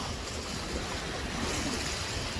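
Strong sea waves around a small fishing boat at sea make a dense, constant roar of surf and wind, close and loud throughout.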